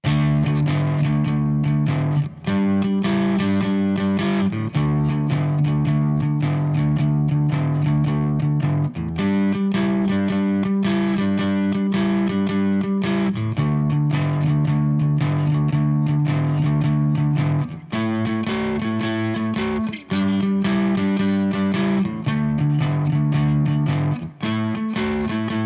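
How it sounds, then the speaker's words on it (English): A distorted electric guitar plays a 12-bar blues in D, a continuous chugging riff that repeats through the changes, loud and unaccompanied. "So if I play the 12-bar blues in D, it's gonna sound like this."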